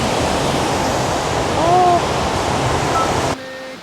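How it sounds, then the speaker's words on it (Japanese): Fukiware Falls in Gunma, a broad steady roar of rushing water filling the scene, with a brief voice partway through before the sound cuts off near the end. "これか、吹割の滝。"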